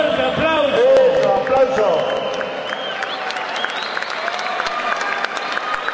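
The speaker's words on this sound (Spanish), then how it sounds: "La recibimos con un fuerte aplauso." Crowd applause and cheering at a boxing event as a female boxer, Princesita de San Javier, steps into the ring. A steady, moderately loud wash of clapping runs throughout, with a voice talking over it early on.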